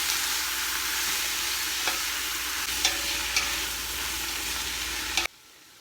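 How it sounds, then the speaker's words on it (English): Italian sausage sizzles and fries in a pot with caramelized onions for a soup, a steady broadband hiss broken by a few brief stirring scrapes, and it cuts off abruptly near the end. "we're going to put in our sausage. Let that cook for a little bit."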